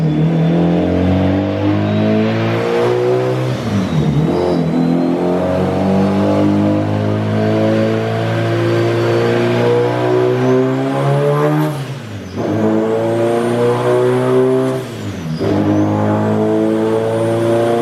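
A Nissan SR20DET turbo engine on a dyno revs loudly in long, rising pulls with harmonics climbing in pitch, broken by sharp drops and whooshing turbo releases between runs.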